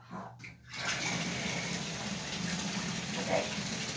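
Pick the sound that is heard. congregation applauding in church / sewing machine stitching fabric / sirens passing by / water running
water running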